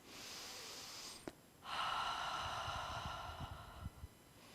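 During a gentle yoga session, two deep, airy breaths are heard up close: a long inhale followed by a longer, louder exhale, with faint soft movement noises afterward.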